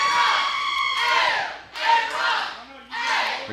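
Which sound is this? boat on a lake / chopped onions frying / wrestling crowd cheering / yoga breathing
wrestling crowd cheering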